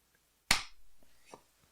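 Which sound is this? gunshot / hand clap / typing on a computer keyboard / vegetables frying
hand clap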